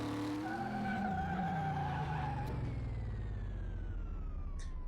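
A car in Car Mechanic Simulator 2018 brakes hard and skids, a loud, sustained tire squeal over engine rumble whose pitch falls steadily over a few seconds, with no voices.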